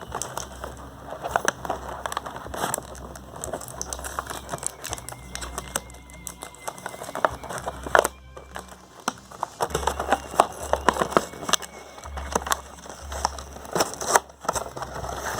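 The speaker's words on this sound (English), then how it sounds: "I have to freaking destroy this packaging." Transformers Cyberverse toy packaging is torn open up close, with rapid bursts of crinkling, ripping and crackling plastic and cardboard, plus scattered sharp snaps that come and go irregularly throughout.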